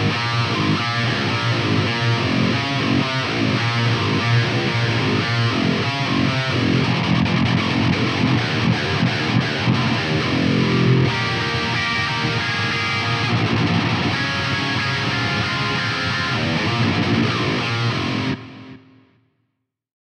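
Heavily distorted prog metal guitar run through a Fractal AX8 preset on a long-scale guitar with tight strings, chugging riffs and dense chords playing loud and continuous before cutting off abruptly near the end.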